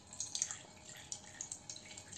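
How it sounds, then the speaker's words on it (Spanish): Coloured water dripping from a container during a static electricity experiment, a few faint, irregular light drips and splashes against a quiet background. "Mira dónde está goteando."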